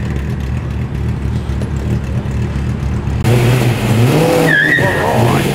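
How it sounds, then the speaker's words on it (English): A Ford Mustang GT350 leaving a car show at Homebush, Sydney: a steady engine drone, then louder revving and a sharp tire squeal up close as the car pulls away. "check out the tough Mustang GT350"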